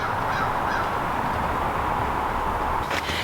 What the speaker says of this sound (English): These roosters behind me refuse to sleep in their coop at this point